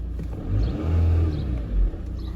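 Audi A4 with an EGR valve fault, its engine revving in short snaps as the throttle is blipped, two or three close bursts of rising rumble over a steady idle.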